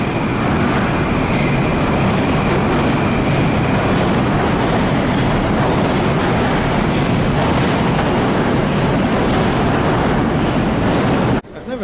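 A Moscow metro train rumbles past close by below, loud and continuous, with rolling wheel clatter and a faint squeal, cutting off abruptly near the end.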